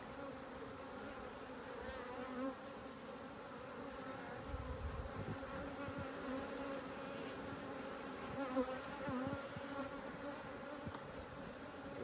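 Honey bees hum around a few beehives in a continuous, fairly quiet buzz, with individual bees droning nearer now and then and no talking.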